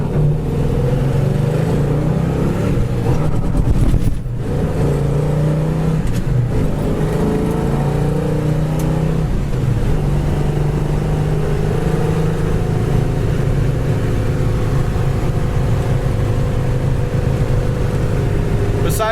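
A 1972 Pontiac LeMans with a 389 and a four-speed accelerates hard with wheel hop, its engine a loud, continuous low rumble with a brief lurch early on, then a sustained drone as it pulls down the road.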